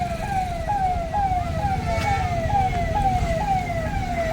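An ambulance siren wails in a repeating rising sweep, loud and close, over the rumble of vehicles in busy traffic near Nagoa Beach.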